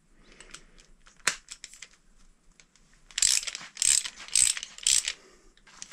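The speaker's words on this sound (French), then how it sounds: "je vais rentrer une petite douille en force." A small socket is forced by hand into the clutch of a KTM 50 SX motocross bike, giving sharp metallic clicks and a burst of ratcheting scrapes near the mic, with a quiet pause between them.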